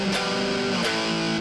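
An electric guitar plays a distorted rock riff from a beginner lesson, with sustained chords separated by a few sharp strum attacks, loud and close with no talking.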